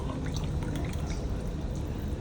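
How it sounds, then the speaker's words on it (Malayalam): Payasam is poured from a large vessel into a glass until it fills, making a steady, muffled liquid pouring rush with a soft low rumble and faint drips. "ഗ്ലാസ് നിറഞ്ഞു, എന്നിട്ട് അവൻ ഒഴിക്കാൻ പറ്റാണ്ട് വന്നിട്ട്"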